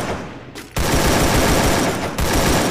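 Continuous loud automatic fire from an XM8 rifle in the game Free Fire, with a dense, rapid, close burst that pauses briefly and then resumes.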